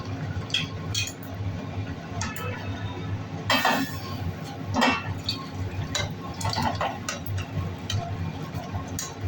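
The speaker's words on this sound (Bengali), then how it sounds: "এবার ঢেলে নেব।" Finished potol chingri curry being poured from a pan into a dish, with soft liquid pours, spoon clinks and scrapes over a low steady background hum, close and moderate, no talk.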